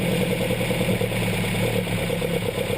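Steady idle of a Pinto engine on twin Weber DCOE carburetors, now set slower, a close continuous engine hum with faint clatter and no talk.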